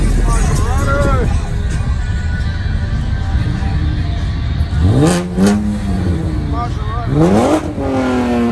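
A Maserati at a car show gives a loud, steady engine drone with a couple of rising revs near the end, under crowd chatter.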